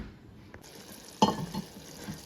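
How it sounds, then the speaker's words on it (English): A spoon stirs melting caramel in a pan, making quiet scraping strokes with one brief louder clink. "So we'll just keep stirring."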